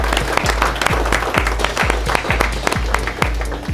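An audience at a streetfishing championship final bursts into dense, continuous applause, many hands clapping steadily and loudly throughout with no pause.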